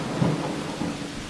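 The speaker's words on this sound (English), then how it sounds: "It's raining like crazy." Heavy rain pours outdoors with a low rumble of thunder rolling beneath it, a dense, loud wash of drops and a deep roar filling the brief moment.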